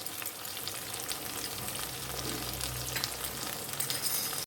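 Ground coriander and cumin powder frying and being stirred in a pan for a vegetarian jackfruit biryani, a steady close sizzle running throughout with soft scraping of the stirring, no talk.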